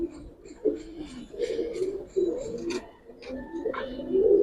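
Giribaj and colouring pigeons coo at a pigeon sale, a steady low rolling cooing from several birds close by, with a few sharper clicks and rustles on top and no talk.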